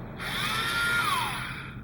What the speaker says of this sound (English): really slow drill such as the Tamiya Handy drill and a 2mm drill bit